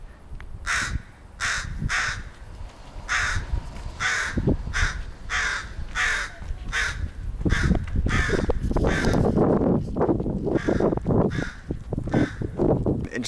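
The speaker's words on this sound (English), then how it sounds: "I guess that crow wasn't making all that noise for nothing." A crow caws repeatedly nearby in a steady series of harsh calls, joined later by rustling and louder background noise.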